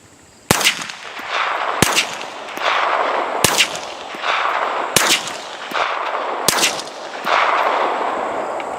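Five shots from a suppressed 9mm HK P30L pistol firing supersonic rounds through a Griffin Revolution 45 suppressor, each a sharp loud crack followed by a lingering outdoor echo, evenly spaced about a second and a half apart.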